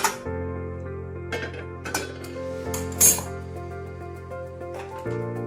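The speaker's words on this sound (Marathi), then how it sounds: "तर मी पातेलं ठेवलं" A cooking pot is set down on a stove with a few sharp metallic clinks and clatters against a steady humming background, while a kitchen scene is prepared for onion poha.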